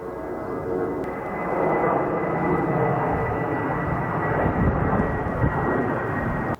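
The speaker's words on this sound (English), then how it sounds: "That plane is taking off vertical." A plane taking off vertically, heard as a loud, steady engine roar that swells slightly after the first second and holds throughout.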